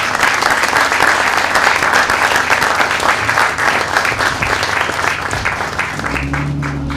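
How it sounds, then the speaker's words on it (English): Loud, sustained audience applause for EMS responders at a Logan Airport ambulance trailer ribbon-cutting in East Boston, dense clapping throughout that thins slightly near the end as a low hum enters. "Please join me in giving these first top-notch responders a round of applause."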